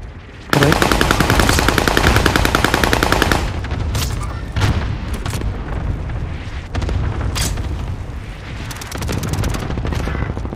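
Loud, sustained automatic gunfire in a video game, rapid bursts with booming impacts and continuous battle noise filling the whole stretch; no talking.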